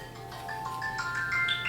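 A phone ringtone plays during sewing work, a faint, rising run of bright electronic melody notes over a low steady hum, with no talk.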